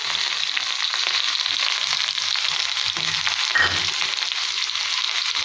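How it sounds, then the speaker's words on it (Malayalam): Onions fry in hot oil after mustard seeds for a Kerala papaya stir-fry, giving a continuous loud, even sizzling hiss, close up with one brief utensil touch midway. "ഇനി നമുക്ക് ഉള്ളി ഇടാം."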